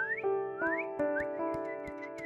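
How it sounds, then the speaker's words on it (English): Characters in the online video game One Hour One Life whistle a string of short rising notes over a steady tonal backdrop, clear and up close. "I heard some people whistling."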